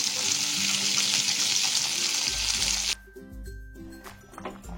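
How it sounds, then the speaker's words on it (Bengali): Moringa drumstick pieces sizzle as they are stirred and lightly fried in a pan for a bitter gourd and moong dal dish. The sizzling is close and steady for about three seconds, then music takes over. "সজনের ডাঁটাটা দিয়ে আবারও একটু ভালো করে নেড়ে নিচ্ছি।"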